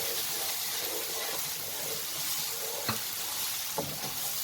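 Masala sizzles and fries in a pan, a steady close hiss with a couple of brief scrape or clink accents as it is stirred.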